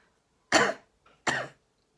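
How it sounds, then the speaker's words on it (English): Two sharp coughs close by, spaced less than a second apart, with a tiny throat sound between them in an otherwise quiet room. "We could have a cough."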